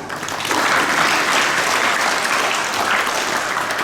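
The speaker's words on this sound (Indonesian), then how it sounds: "Tepuk tangan untuk Tuhan." Steady, dense applause from a crowd at a Sunday school Christmas service in Puncak Jaya, Papua, fills the whole stretch, loud and close, with no voices standing out.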